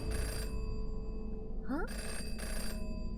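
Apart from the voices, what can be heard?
telephone ringing in the video game Jenny LeClue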